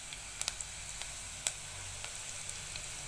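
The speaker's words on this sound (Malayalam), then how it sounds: "ഈ ഉള്ളിയും പച്ചമുളകും വെളുത്തുള്ളിയും ഒന്ന് വഴന്ന് വരുന്ന ഒരു വഴുത്ത് കൊടുക്കും" Onion, green chili and garlic sautéing in a pan for dal fry, a steady, fairly quiet sizzle with a few light ticks and pops, close by and with no talk.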